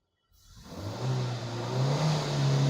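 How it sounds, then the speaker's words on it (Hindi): A car with a misfiring engine starts up and revs as the accelerator is pressed, the engine tone rising and holding at a steady, moderately loud pitch after a moment of silence. "गाड़ी जैसे हम एक्सीलेटर करते"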